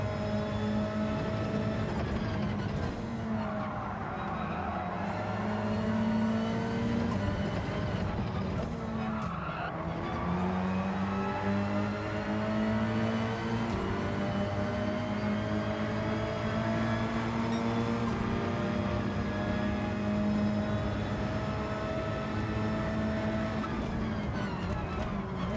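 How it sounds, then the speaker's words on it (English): Hyundai Elantra BTCC touring cars racing in Gran Turismo 7, several engines droning and shifting pitch together as the cars bump through corners, with tyre squeal and a continuous loud mechanical roar throughout. "That was proper touring car racing."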